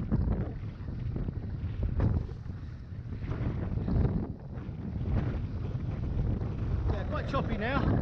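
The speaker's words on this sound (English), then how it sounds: "It's very windy" Strong wind buffets the microphone while a wing foil board rides over roughly foot-and-a-half chop on open water, a steady loud broadband roar with splashing surges and no talk.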